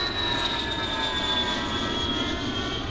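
An airplane passes overhead with a steady, even roar and a faint high whine that holds without pause, with no voices.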